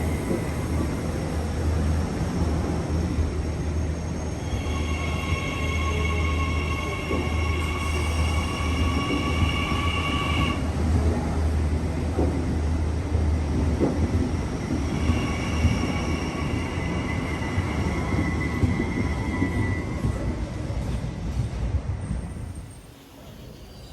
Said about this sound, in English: now the DSET has finally departed the platform